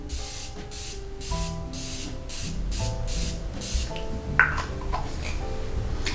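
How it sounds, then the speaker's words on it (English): Makeup setting spray misted over a powder foundation, a few short airy hissing bursts over steady background music. "So just let me spray it out."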